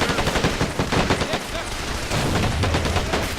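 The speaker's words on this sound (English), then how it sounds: "we're going to move up now and start firing at the Japanese down in their own trench" Gunfire in the World War II strategy game Men of War: Assault Squad 2 during a trench assault on Japanese troops: dense, continuous machine-gun and rifle fire, loud throughout, with heavier rumbling blasts mixed in toward the end.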